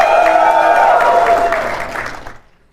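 A live-show audience at PAX East 2017 erupts in loud clapping and cheering with high shouts, holding strong before tapering quickly into silence.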